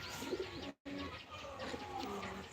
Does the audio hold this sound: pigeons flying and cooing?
yes